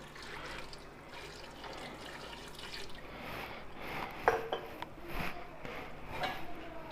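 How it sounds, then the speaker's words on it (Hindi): Roughly a glass of water is poured into a pot of beef masala karahi, a soft trickling, splashing flow over a low kitchen background, with a few clinks, moderately faint and without speech. "उसके बाद इसमें मैं पानी डालूँगा तकरीबन 1 गिलास।"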